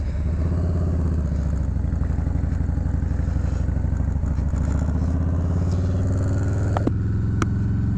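A 2020 Harley-Davidson FXLRS motorcycle riding at speed, its V-twin engine rumbling loud and continuous with steady wind and road noise throughout and a couple of brief clicks near the end.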